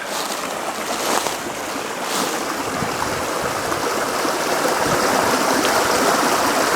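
Creek in snowy North Alabama woods with a steady, loud rush of flowing water that holds even throughout, close by, with no voices over it.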